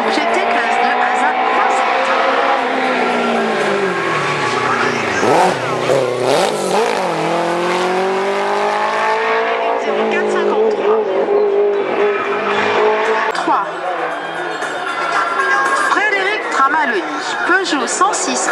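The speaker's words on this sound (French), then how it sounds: "il s'agit de Franck Fekino sur une Porsche GT3 RS, donc GT classe 2 ASA." A Porsche GT3 RS race car in the GT class 2 climbs the 2011 Biot hill climb, its engine revving and rising and falling in pitch, heard from a distance under a loud announcer.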